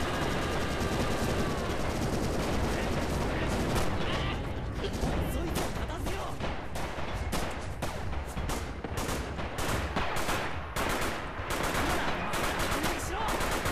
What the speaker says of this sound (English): the commander has just called in some artillery